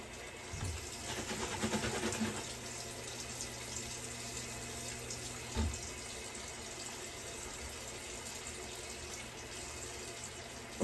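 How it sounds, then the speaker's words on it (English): Tap water runs steadily into a thick mixture, a continuous close hiss with a brief louder splash early on and a small bump midway, no one talking. "So I'm gonna add water."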